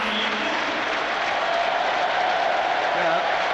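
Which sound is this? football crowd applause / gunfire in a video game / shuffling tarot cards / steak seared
football crowd applause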